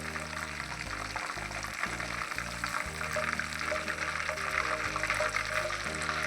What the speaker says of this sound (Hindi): 5 मिनट फिर एक साइड से आपने फ्राई करना